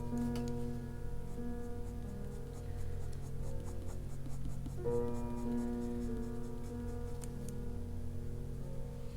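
A colouring pencil shades steadily over paper in a colouring book, a soft continuous scratchy rubbing that goes on for several seconds over a faint background hum, with no talking.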